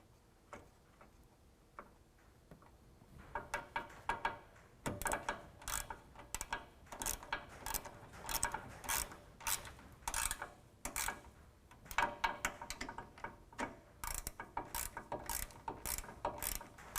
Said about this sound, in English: Now let's go ahead and set the serrated flange nuts onto the studs and get them tightened down with 13 millimeter.